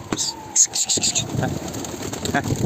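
A pigeon gives a few soft coos over a busy outdoor background with chirps and a flutter of wings, fairly close but not loud, with no talk.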